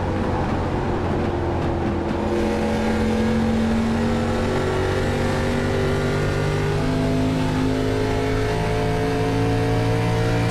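Several stock car engines throttle up together in an iRacing race at Rockingham, their rising, layered whine swelling steadily into a loud, continuous roar close by with no talk over it.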